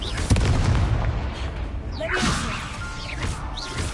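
Fiery Confringo spell explosions in Hogwarts Legacy land as a sharp, punchy boom early on, followed by whooshing magical swishes and rumble, all loud and close.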